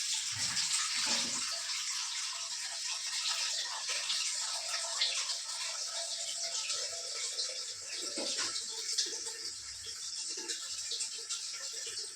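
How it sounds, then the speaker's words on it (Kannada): Water running from a soft hose pipe into a container, a steady, even rushing hiss that continues unbroken throughout with no talking. "ಈ ಪೈಪ್ ಬಂದ್ಬಿಟ್ಟು ತುಂಬಾ ಸಾಫ್ಟಾಗಿದೆ ನೀರು ತುಂಬಿದಾದ್ಮೇಲೆ ಈ ರೀತಿ ಫೋಲ್ಡ್ ಮಾಡಿ ಇಟ್ಕೊಂಡ್ಬಿಡ್ತೀನಿ ನಾನು"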